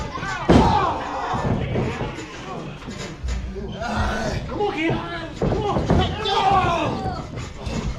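A wrestler is slammed onto the ring mat during a CHWA independent wrestling match, with a sharp thud early on followed by crowd noise and commentary running over it.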